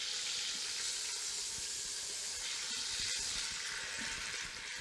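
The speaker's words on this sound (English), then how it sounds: "you can hear it searing. It's making a lovely sizzly sound." A big piece of beef searing in a hot pan with a little vinegar added, giving a steady, close, hissing sizzle with faint crackles throughout, without talk.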